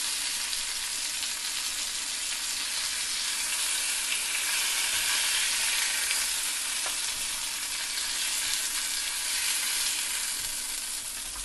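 Lamb chops sear in a hot oiled pan, giving off a loud, steady hiss and crackle that holds evenly from start to finish with no talking.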